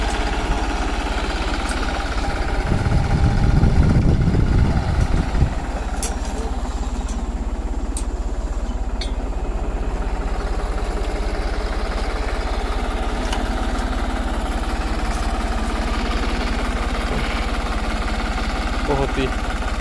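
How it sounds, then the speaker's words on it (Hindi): New Holland 3630 Plus 4x4 tractor pulling a sugarcane planter in a field, a steady mid-pitched engine drone throughout with a louder rumbling surge near the start and voices talking over it. "ये उठ गया आगे से ट्रैक्टर"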